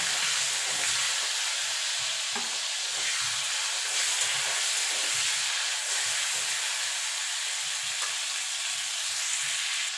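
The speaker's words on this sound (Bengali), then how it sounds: "দেখুন বন্ধুরা, তেলটা গরম হয়ে গেছে। এবার চিংড়ি মাছটা ভেজে তুলে নেব।" Prawns fry in hot oil in a home kitchen, a steady close sizzle and hiss with faint stirring clicks throughout, no voices.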